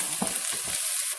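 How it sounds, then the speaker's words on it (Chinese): Wood ear mushrooms and daylilies stir-fry in a wok, a loud hiss with a couple of quick tossing scrapes at the start that fades to a steady sizzle. "翻炒。"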